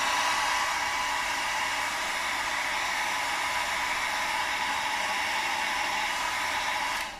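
A hair dryer blows steadily and loudly at close range, drying paint on a handmade card, with no talk, then cuts off at the very end.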